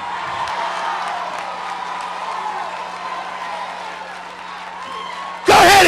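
A church congregation claps and shouts together in a dense, steady wash of crowd noise. A sustained tone hums beneath it, and a sharp, loud burst breaks in at the very end.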